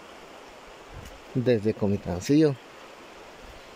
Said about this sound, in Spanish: Ahí está el río, mis queridos amigos.